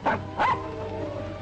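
A dog gives two short, sharp barks close by, about a third of a second apart, followed by a quieter murmuring background, in a 1950 crime film scene.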